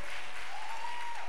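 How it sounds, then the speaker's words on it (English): A large crowd at a women's conference claps steadily in a dense, even wash of applause, heard in a brief snippet without speech. "Come on, clap a little bit more, a little bit more."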